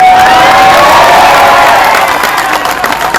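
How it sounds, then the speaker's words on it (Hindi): A large crowd at a public political meeting claps and cheers loudly all at once, a dense roar of applause and shouts that stays strong and fades only slightly. "इन तालियों का हकदार नहीं है मेरे भाई।"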